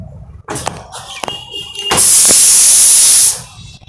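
A household pressure cooker vents steam in a loud, steady hiss lasting over a second, preceded by a few clattering kitchen knocks and faint background sounds.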